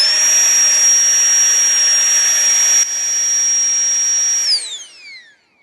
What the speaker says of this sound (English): So this is the sound of the flex tail,